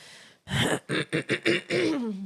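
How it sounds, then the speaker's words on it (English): A person clears their throat close by in a few rough, choppy bursts, ending in a drawn-out guttural rasp. "Sorry, let me clear my throat."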